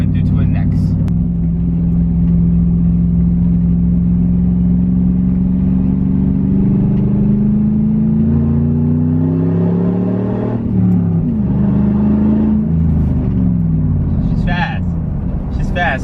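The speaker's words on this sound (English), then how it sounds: "I'm gonna floor it a little bit for you guys" A pickup truck's engine is floored at full throttle, its loud, close drone climbing steadily in pitch for about sixteen seconds before briefly dipping and surging again.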